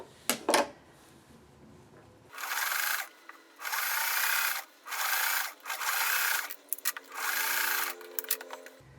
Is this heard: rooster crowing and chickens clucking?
no